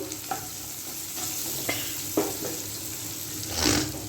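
Onion cubes fry in a pan for a dry dragon chicken dish, a soft continuous sizzle broken by a few sharp clicks of stirring and a brief louder hiss near the end, with no talking.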